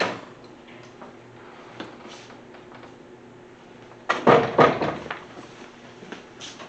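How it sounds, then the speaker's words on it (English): A door bumps shut nearby with a short cluster of knocks and rattles, then the room goes quiet with faint background noise. "Let me close the door"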